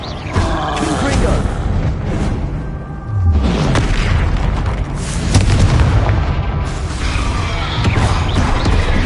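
Hogwarts Legacy's Confringo fire spell erupts in a series of loud booming blasts and crackling bursts that run through the whole stretch, with dense rumbling game effects and a voice speaking over them.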